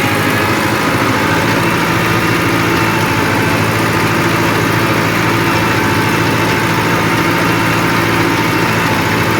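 ATS 290 tractor engine running with a rotavator attached, a loud, constant low diesel drone with steady vibration throughout and no pauses.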